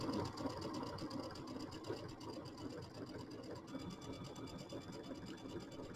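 A sewing machine stitching a quilt gives a steady, fast, rhythmic mechanical whirr, close but fairly quiet, running continuously with no talk.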